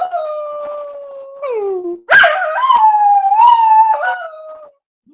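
A dog howls in long, wavering, rising and falling cries during a severe weather alert, with a siren-like tone early on, loud and close, alone without talk.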